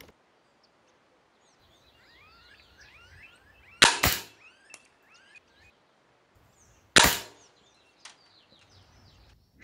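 Two loud gunshots fired outdoors a few seconds apart, each a sharp close crack with a short echo, while birds chirp and call steadily in the background.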